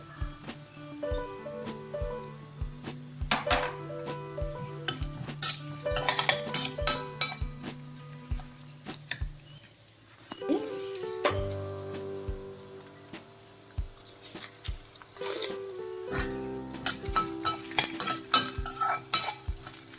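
Sesame seeds, urad dal and dry red chillies are roasted on low heat in a pan for a cucumber chutney. Repeated metallic clinks and scrapes of a spoon against the pan run over a faint sizzle, with some quieter pauses in between.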